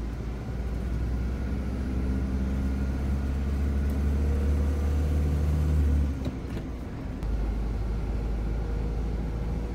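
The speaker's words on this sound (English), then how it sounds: "So we're in the lorry, about to drive down just to the yard to pick up the horses." A horse lorry drives along with a steady low engine drone and road rumble heard from inside the cab. The engine note drops briefly near the end and then resumes.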